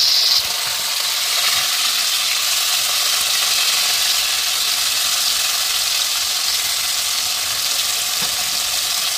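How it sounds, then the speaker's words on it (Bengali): Chopped onion frying in hot white oil in a wok, a steady broadband sizzle that holds level and close throughout with no voices. "এবার প্রথমে আমি কড়াটায় সাদা তেল নিয়ে নিয়েছি, সাদা তেলটা গরম হয়ে গেছে। এবার আমি এতে কুচনো পেঁয়াজ দিয়ে দেবো।"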